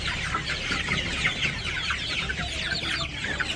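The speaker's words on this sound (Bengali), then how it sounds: "এটা একটা মুরগি, এটা মোরগ" A hen and a rooster cluck steadily in a village yard, their overlapping calls continuous and fairly close throughout, with no talking.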